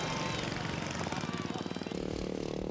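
Racing lawnmower engines at an amateur mower race, a buzzy, rattling rhythmic chatter of small motors revving and idling, fairly faint and rough over a short stretch.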